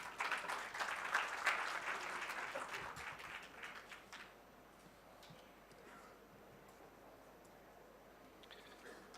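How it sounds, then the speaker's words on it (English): An audience applauds at an agricultural value-chain conference hall event, a dense, steady clapping for about four seconds that then fades into quieter room noise. "Please give him a round of applause."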